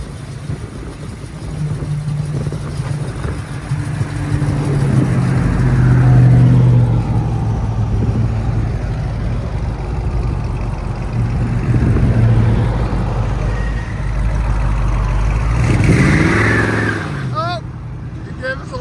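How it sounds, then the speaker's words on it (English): A 1968 AMC AMX with a 401 V8, long tube headers, stock mufflers and true dual exhaust idles with a deep lumpy burble, then revs and swells nearby while people talk over it. "Nice idle, even for for quiet stock mufflers."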